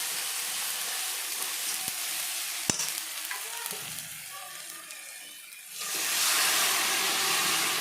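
Chopped ginger and cumin sizzle in hot oil for a tempering, with a few sharp utensil clicks and stirring over a soft hiss, then a sudden loud, sustained sizzle surges near the end.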